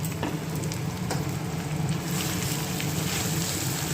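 Mashed potato frying in a pan as filling for aloo paratha, a steady close sizzle with faint stirring noises, continuous and fairly loud.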